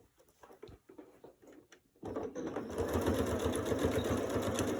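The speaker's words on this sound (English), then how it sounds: "now using a regular stitch on your sewing machine, straight stitch, you're going to back stitch at the top" A few soft taps and handling noises, then a sewing machine starts up and runs a steady, rapid straight stitch, close and continuous.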